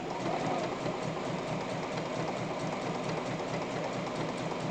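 A home sewing machine stitches a centered zipper, running in a steady, fast mechanical rhythm of needle strokes that holds at an even, close loudness throughout with no pauses or talk.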